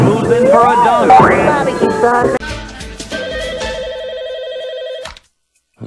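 A telephone rings with a steady repeating electronic tone after a loud stretch of voices and music, then cuts off abruptly into near silence.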